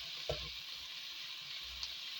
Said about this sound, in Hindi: मसाले में घी छोड़ दिए।